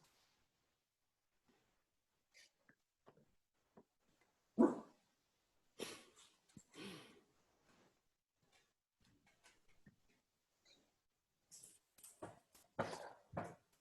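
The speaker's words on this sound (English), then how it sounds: "And the dogs are going insane." Dogs bark faintly in the distance during a quiet lecture, with scattered short barks and bursts separated by long pauses.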